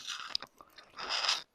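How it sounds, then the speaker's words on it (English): Crunchy marinated roast pork ribs are chewed up close in a few crisp, crackling bites, quiet and alone. "the outside has that little bit of a crunch"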